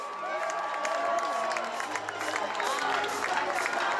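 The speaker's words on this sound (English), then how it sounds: "Let's give them a big round of applause, everyone!" Crowd applause and cheering fill the stands at a high school football game, a steady, dense roar of clapping and shouting that holds for several seconds with no break.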